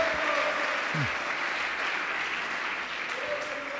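Steady, even applause from a church congregation during a Spanish-language sermon on sin, dense clapping filling the whole stretch, with faint tonal sounds briefly showing near the start and end.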